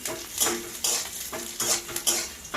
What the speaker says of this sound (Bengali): গোটা শুকনো লঙ্কা আর কাঁচা লঙ্কা দিয়ে দেবো দিয়ে আবারও একটু আমি ভালো করে ভেজে নিচ্ছি